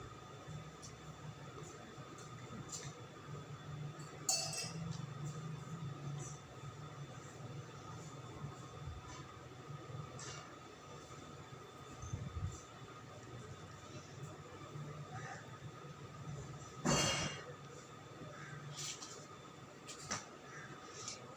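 Chicken pieces fry in hot oil, giving a faint, continuous hiss that holds steady throughout, with a few brief clinks and light thumps from the pan and a little quiet speech now and then.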